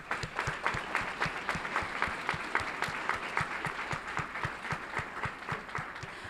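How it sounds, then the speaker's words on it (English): Audience at a Fort Worth ISD school board meeting claps steadily for an honoree, a dense patter of many hands at moderate distance, sustained evenly without voices over it. "Let's give him a round of applause."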